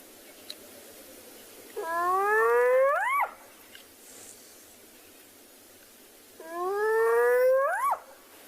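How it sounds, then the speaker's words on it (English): A young spotted hyena gives two loud, rising whooping calls, each lasting over a second, separated by a few seconds of quiet outdoor background, fairly close and without speech. "I've never heard a hyena this small make that loud of a sound."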